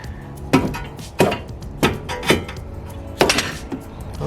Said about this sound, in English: I'm gonna go ahead and hammer it down just a tad bit.